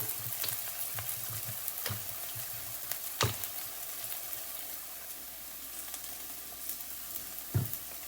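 Ginger, green chillies and turmeric frying in a pan, a soft continuous sizzle with occasional sharp spatula knocks, fairly quiet and close.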